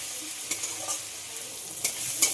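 Chopped tomato with salt sizzles softly in a pan, a steady low hiss with a few light stirring scrapes, nobody speaking.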